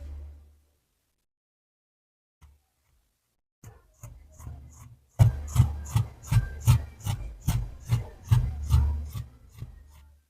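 Scissors snip through fabric while a circular palazzo trouser is trimmed, starting with a few sparse cuts and then settling into a steady run of close, crisp, rhythmic snips.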